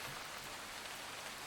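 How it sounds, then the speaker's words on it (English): Steady rain ambience in a Mass Effect 2 game session, a dense, even hiss of falling drops heard alone with no voices, constant in level throughout. "let me turn this rain down a little bit."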